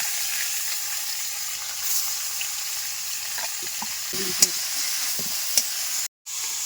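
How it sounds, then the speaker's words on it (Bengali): Beetroot and carrots frying in a pan make a steady hissing sizzle close by, with a few soft stirring knocks and sharp pops, and a brief silent gap near the end. "বিট ও গাজরগুলো আস্তে আস্তে দিয়ে দিলাম"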